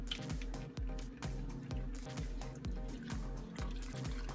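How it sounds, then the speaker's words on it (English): A little water pours into a blender holding a chocolate chip frappe-style protein shake. The close, continuous trickle and splash carries a rhythmic gurgling pulse throughout. "And then we'll put a little water in there"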